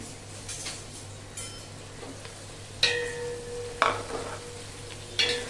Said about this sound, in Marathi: याच्यामध्ये घालणार मी थोडासा पुलाव मसाला आणि हे छान एकदा हलवून घेणार उचटण्याने.